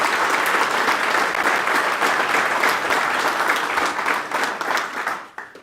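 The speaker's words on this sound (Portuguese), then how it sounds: "Peço uma salva de palmas também para a nossa secretária." Sustained, dense applause from an audience at a Chega party event in Beja, Portugal: many hands clapping steadily at full strength for several seconds before tapering off at the end.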